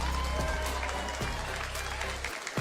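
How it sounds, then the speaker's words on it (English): Audience applause at a Street Fighter Capcom Cup watch party: a short burst of crowd clapping over a steady low hum, with a brief gap near the end. "can we get another round of applause for 0-0 Nation one time,"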